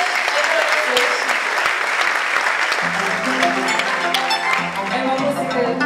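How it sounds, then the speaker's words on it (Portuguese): Loud, dense applause from a pageant audience at a glamour pageant in a casino hall, sustained throughout, with a sung or instrumental melody rising underneath partway through. "acho que elas merecem uma salva de palmas"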